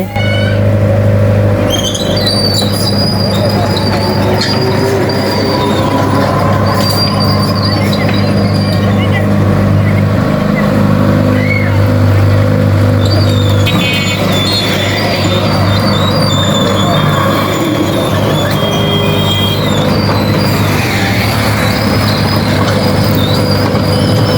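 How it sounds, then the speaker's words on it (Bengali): A large excavator works on a roadside repair job. A loud, continuous engine rumble with a grinding mechanical drone fills the whole stretch without letup. "এখানে রাস্তা তৈরি করা হচ্ছে বিশাল মেশিন দিয়ে এই মেশিনটার নাম মনে হয় ভেকু মেশিন"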